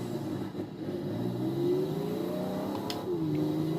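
FX Holden Ute with a 5-speed manual pulling away, its engine note climbing steadily through the revs and staying close and loud, with a brief gear change partway through and no talking.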